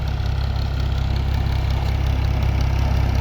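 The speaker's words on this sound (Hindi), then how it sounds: "ये जनाब ट्रैक्टर आ गए जी" A tractor engine idles steadily on a farm during mung bean drilling, a loud, constant low rumble with an even throb and no talk over it.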